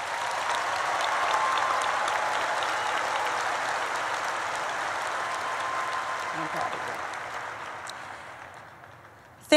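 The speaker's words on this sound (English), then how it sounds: "A very big round of applause first for the graduates," Graduates at a convocation ceremony receive sustained applause from a large crowd, a broad, even wash of clapping that slowly fades over several seconds before a voice cuts in at the end.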